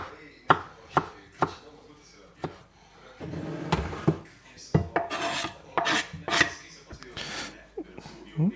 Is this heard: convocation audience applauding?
no